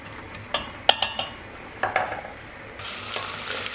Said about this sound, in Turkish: İlk önce soğanlar pembeleşene kadar kavuruyorum.